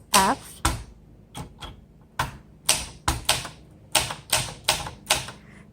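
Keys clatter on a 1963 Olympia SF Deluxe Traveller manual typewriter, with sharp individual strikes coming in short irregular bursts and pauses, close and crisp, with no talking.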